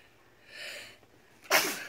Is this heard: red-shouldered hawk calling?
no